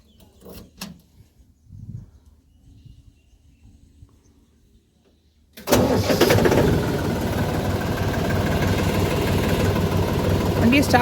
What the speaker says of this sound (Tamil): ஸோ அதனால் வண்டியை ஸ்டார்ட் பண்ணிவிட்டு